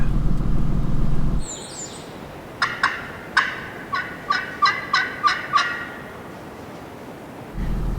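A wild turkey gobbles in a Kentucky field in spring, a run of about eight sharp, rattling gobbles in quick succession, fairly distant but clear, between gusts of wind noise.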